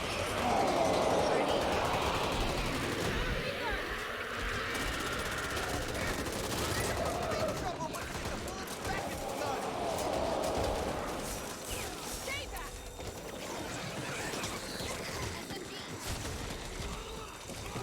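Automatic weapons fire in the zombie shooter Back 4 Blood, a dense, continuous clatter of shots layered with game noise, impacts and crashes, with players talking over it.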